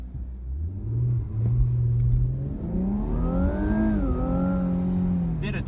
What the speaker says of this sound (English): I'm going to do a launch control for you guys here